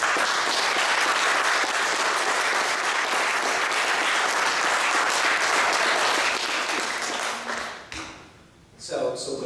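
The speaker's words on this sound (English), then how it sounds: "so let's give him a round of applause." A loud room of people at a Boy Scout Troop 180 Court of Honor breaks into sustained applause, thick and continuous for about eight seconds before dropping away, followed by brief noise as the clapping ends.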